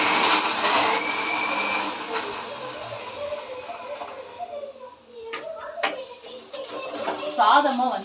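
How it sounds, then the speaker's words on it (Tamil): A small mixer grinder jar whirs loudly as it grinds roasted masala for chicken gravy, then the motor winds down, with a voice talking over the later part. "அந்த மசாலாவை எல்லாம் சின்ன ஜாரில் சேர்த்துக்கிட்டேன் இப்போ இதையும் கிரைண்ட் பண்ணிடலாம்"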